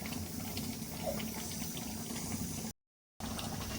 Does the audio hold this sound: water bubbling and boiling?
yes